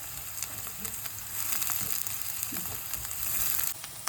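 Onions and green chilies fry in a hot pan with a steady, crackling sizzle, joined by a few faint scrapes of stirring; no one speaks.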